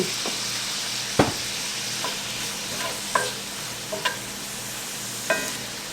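Bottled garlic sizzles gently and steadily in a pan, with several spoon taps and scrapes spaced through it and no voices.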